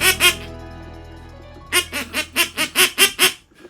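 A hunter's teal hen duck call, one that also mimics a green-winged teal hen, blown in a quick, choppy series: two notes, a pause, then about eight evenly spaced loud, close quacks.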